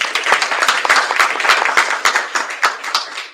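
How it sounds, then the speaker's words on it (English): An audience applauds a panelist at an economic roundtable, dense steady clapping from many hands heard up close without a break. "Everyone give her a round of applause, please."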